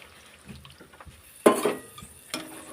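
Coconut milk and grinding-stone rinse water poured into a fish malai curry, a short splashing pour near the middle followed by a smaller second splash, fairly close with light clatter around it.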